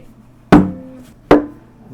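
Two sharp wooden knocks about a second apart from tapping an acoustic guitar's neck as a snare, each with a hollow, resonant ring that decays quickly.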